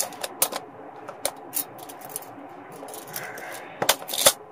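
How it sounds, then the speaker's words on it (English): Metal tape measure blade extending and snapping back into its case, with sharp rattling clicks and a brief whirring retraction, close and fairly loud, no voices. "let's say I extend it and it comes back, right?"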